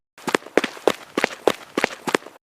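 Quick footsteps close by, landing in a steady rhythm for a couple of seconds.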